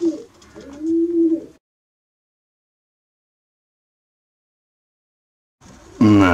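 Pigeons bred for racing coo in soft, low rolling phrases for about a second and a half, then fall silent before a louder burst of cooing returns near the end; no one speaks.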